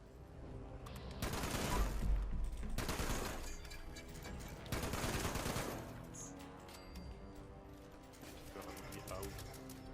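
Bursts of automatic gunfire in the video game Fallout 76, several loud volleys a few seconds apart with a continuous game background between them, and talk going on during the fighting.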